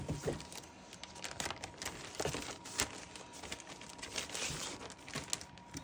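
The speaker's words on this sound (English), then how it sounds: "So I did purchase this one, so I will get out these paper and sticker sheets." Paper and sticker sheets are handled close by, producing soft crinkling, rustling and light shuffling with occasional small taps.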